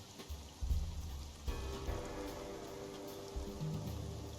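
Steady rain patters and drips in the boat-sailing game Spiritfarer, a soft continuous hiss of raindrops hitting surfaces, with a few low thumps and a faint tonal hum underneath.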